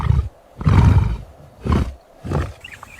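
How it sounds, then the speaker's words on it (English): A lioness on the African savanna gives four loud, close roars in a rhythmic series, each a deep, rough burst separated by short pauses. "She stood over him and roared until the plain itself seemed to listen."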